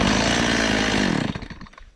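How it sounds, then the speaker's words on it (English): A Stihl MS170 chainsaw engine roars loudly, then winds down and sputters off over the final half second. "a chainsaw that started that nicely for me"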